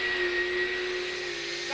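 An electric winch motor on a 4x4 whining steadily, a sustained mechanical drone holding a constant pitch at moderate level, with no talk.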